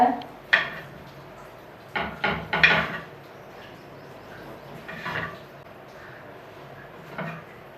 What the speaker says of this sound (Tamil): இது மேலே இருக்கிற ப்ரௌனாக இருக்கிறதெல்லாம் நம்ம கட் பண்ணி எடுத்துகிட்டு ஒயிட்டை வச்சு செய்யலாம்